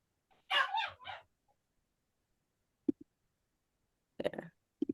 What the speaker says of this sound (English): my dog wants to get out